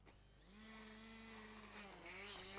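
An electric mixer whirs through strawberry dessert batter with a steady high-pitched motor whine that rises as it starts and wavers slightly under load, close but fairly quiet, with no talking.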